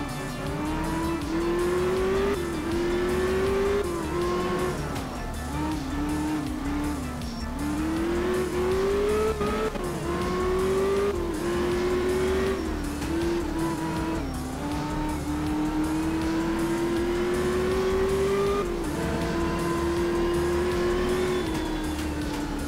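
A BMW M1 Procar rally car in the Art of Rally video game drives and slides, its engine revving up and down continuously with frequent shifts and handbrake slides, loud and close throughout with no talk.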